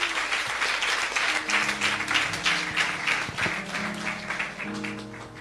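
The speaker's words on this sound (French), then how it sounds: "Applaudissez pour Jésus. Clap for Jesus." Church congregation clapping for Jesus, lively rhythmic hand claps from many people over soft organ or keyboard chords, moderately loud and continuous.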